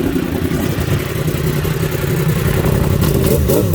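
A Yamaha R1 sport motorcycle's engine runs loud and close, a rough, steady mechanical roar with clattering texture and a slight rise in revs near the end.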